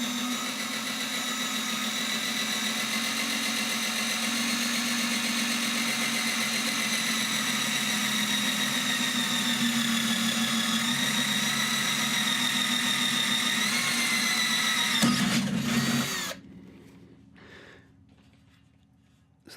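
A drill runs slowly through a steel chassis, a steady droning whine with a constant pitch held for about fifteen seconds, then it cuts off sharply and the sound fades to quiet.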